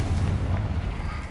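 A fiery Confringo spell blast in Hogwarts Legacy roars as a dense, loud, low explosive rumble that fills the whole moment without a break.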